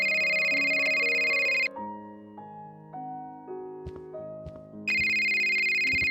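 Phone ringtone in a video game, a loud electronic chiming melody that plays, breaks into a softer tonal passage, then returns at full volume, alone without talk.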